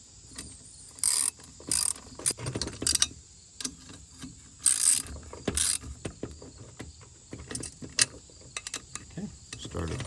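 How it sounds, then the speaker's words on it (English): A hand ratchet snugs down engine head bolts on an 80cc bicycle engine kit, giving bursts of fast clicking with pauses between strokes, close and fairly quiet. "I'll use the regular ratchet and we'll just get everything snug"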